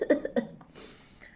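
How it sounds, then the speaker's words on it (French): A woman coughs a few times in quick, close bursts, followed by a soft breath and faint background noise. "Je tousse."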